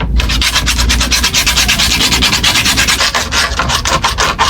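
Sandpaper rubs hard and steadily back and forth across a shoe sole being reglued, a loud close rasping in quick regular strokes with no talk.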